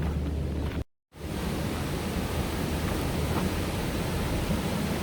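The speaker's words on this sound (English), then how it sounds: "who else loves the sound of rushing water?" Rushing water of a mountain stream near Guanella Pass in Colorado, a steady broadband roar that is close and loud, briefly cut out near the start before resuming unbroken.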